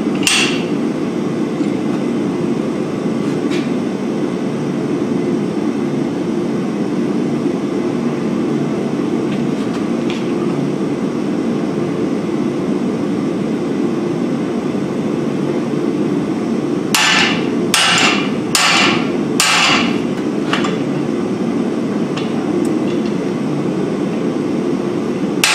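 A hammer forges hot steel to draw out a bevel, landing a quick burst of about five ringing blows partway through. The blows sit over a loud, steady roar that fills the rest of the clip.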